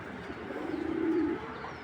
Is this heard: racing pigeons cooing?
yes